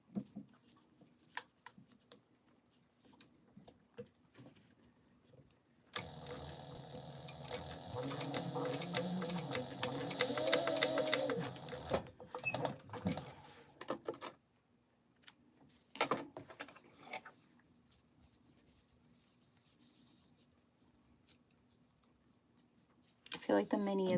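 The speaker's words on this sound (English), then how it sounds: "now I'm just going to stay stitch these together." A sewing machine stay-stitches the pieces of a Mini Scout bag. The motor whirs in a steady run of about six seconds, then a few shorter stitching bursts follow, and quieter handling clicks surround it.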